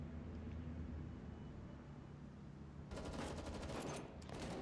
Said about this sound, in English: The sound of gunfire and thuds and footsteps.